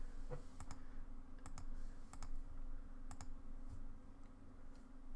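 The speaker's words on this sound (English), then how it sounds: "Press escape on the keyboard." Keys pressed on a computer keyboard while playing Half-Life 1, a string of sharp, quiet clicks in small clusters over a soft background hum.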